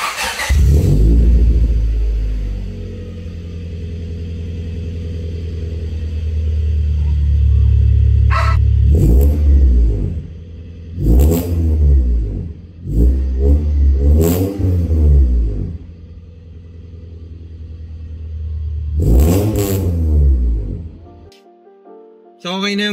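A car engine fitted with a new exhaust revs loudly and close by in repeated rising blasts, first a long deep rumble, then several sharp throttle bursts with idle between them.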